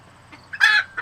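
A white guinea hen among chickens lets out a short burst of clucking, a faint call followed by one loud squawk and a brief final cluck, close by with no talking.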